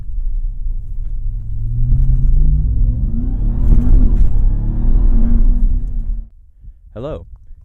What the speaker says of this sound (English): The crazy part is that the truck is so loud, especially when you're like out here in nature.